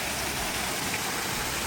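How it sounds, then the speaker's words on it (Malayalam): Continuous hiss of a forest waterfall, an even, unbroken wash of falling water at moderate level, with no talking over it. "എന്താ കാടിൻ്റെ ഇടയിലൊരു വെള്ളച്ചാട്ടം."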